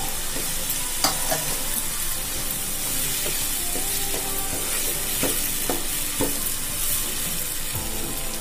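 Tomatoes and onions frying and being stirred for a tindora masala gravy, a steady sizzle with scattered spoon-scrapes and clicks against the pan, close and continuous with no talk.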